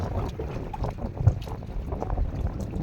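Gusty wind buffets the microphone in uneven bursts over a low rumble, with faint water sounds around a small boat.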